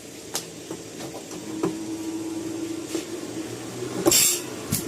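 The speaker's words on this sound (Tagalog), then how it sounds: "gumagana yung electric fan natin." A steady mechanical hum from a running, just-repaired electric fan with rattling clicks and a brief hiss near the end, close by.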